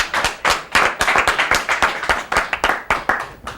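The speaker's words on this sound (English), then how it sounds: "A round of applause for Mr." A studio audience claps for a guest being introduced on a talk show, loud close hand claps in quick uneven bursts with distinct sharp strikes throughout.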